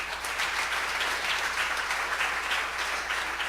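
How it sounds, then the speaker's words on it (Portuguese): A church congregation gives a round of applause for Jesus, with even, sustained clapping from a crowd heard at a moderate level throughout. "Salva de palmas para Jesus"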